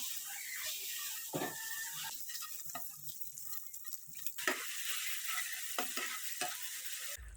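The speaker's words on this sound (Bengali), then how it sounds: "ডিমটা ভেজে দিই" An egg frying in a hot pan in a home kitchen, a steady close hiss and sizzle with scattered crackles and light pops throughout.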